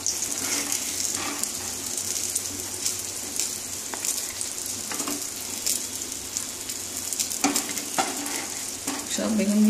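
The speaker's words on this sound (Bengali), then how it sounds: "বেগুনগুলো ভাজা হয়ে গেছে, আমি এবার তুলে নিচ্ছি।" Fried eggplant pieces are lifted one by one out of hot oil in a home kitchen, a continuous sizzle broken by sharp clicks and scrapes of the utensil against the pan, with no one talking.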